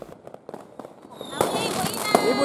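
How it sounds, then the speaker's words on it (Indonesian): New Year's fireworks in Merauke, Papua, crackle and pop in a dense, rising barrage outdoors, with crowd voices and a nearby speaker talking underneath. "Mayoritas mendatangi Tugu Libra menyaksikan kembang api."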